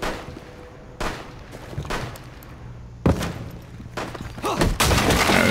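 Rapid bursts of gunfire in Rainbow Six Siege bomb mode on the Kafe Dostoyevsky map, several sharp loud volleys with gaps between them and a sustained barrage at the end.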